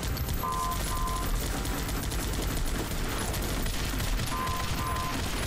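Machine gun fire rattles continuously in the Guns Up! multiplayer strategy game, a dense, steady burst of rapid shots mixed with battle noise and brief electronic tones, loud and unbroken throughout.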